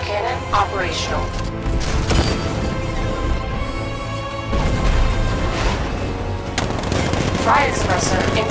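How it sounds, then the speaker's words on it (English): Tank cannon fire and rapid gunfire from a 60mm cannon in Batman: Arkham Knight, dense bursts of shots and mechanical clatter with a heavy boom midway, under game dialogue. ".60mm cannon operational."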